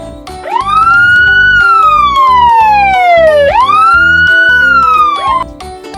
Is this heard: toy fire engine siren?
yes